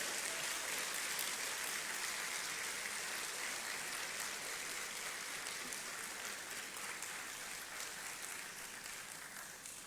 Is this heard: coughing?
no